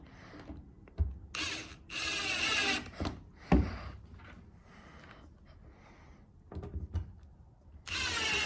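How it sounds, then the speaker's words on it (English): A power drill drives a screw into a wood backer in several whirring, ratcheting bursts separated by pauses, with clicks and handling knocks between runs, fairly close. "I'll try to put a screw in."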